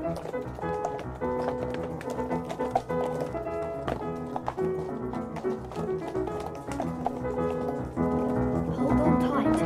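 Horses' hooves clip-clop in quick, continuous taps, moderately close, layered under orchestral music with no clear voices.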